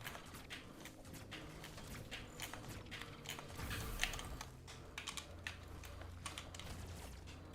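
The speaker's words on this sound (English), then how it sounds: "You're bound to listen to more clicky control sounds." Clicky game controller buttons pressed rapidly and irregularly during Metroid Dread play, faint, sharp clicks repeating throughout over a low background hum.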